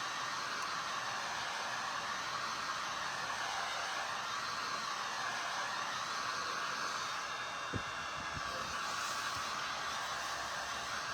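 A hair dryer blowing on a freshly painted label on a primitive farmhouse-style craft piece, giving a steady, loud, continuous whooshing roar that holds for the whole stretch, with a faint bump or two partway through.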